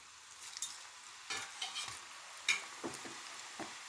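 Potato bajji fry in oil over a medium flame, a faint sizzle broken by soft, irregular bursts of bubbling and light clatter, close by with no voices.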